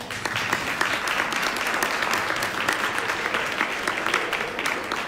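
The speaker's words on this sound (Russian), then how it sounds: "Аплодисменты еще раз" Audience applause at a dog show award ceremony in Moscow, honoring a husky's group win: steady, dense clapping from a sizable crowd, sustained for several seconds at even loudness.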